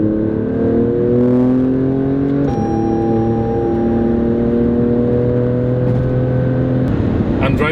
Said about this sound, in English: I'm driving the car in race mode